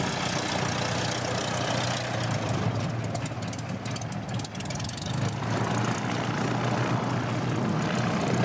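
ATR turboprop airliners arriving at Christchurch Airport in strong gusty wind, a steady loud propeller and engine drone with broadband wind roar, sustained throughout with no talking.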